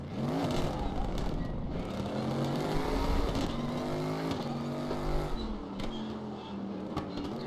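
A race car engine in RaceRoom revs hard at full throttle with the wheels barely spinning under traction control, its loud, steady drone rising and falling in pitch through repeated surges.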